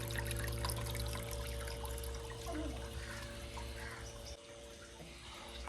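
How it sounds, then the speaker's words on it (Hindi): Water runs steadily into an air cooler in a mud house, a soft continuous trickle and pour under a constant low motor hum, heard close for several seconds without talk. "अब इसमें पानी वगैरह जो है वो भी मैंने डाल दिया, पानी चला दिया"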